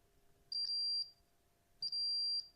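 A multimeter's continuity tester beeps while probing a pinball dot matrix display board: two steady, clear high-pitched tones, each lasting about half a second, separated by a pause over a faint background hum.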